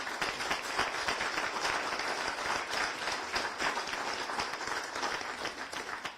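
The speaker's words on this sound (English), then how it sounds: "So just a quick round of applause." Sustained applause from an audience at the Tahoe Donner HOA annual meeting, a steady, even wash of many hands clapping together at moderate loudness for several seconds.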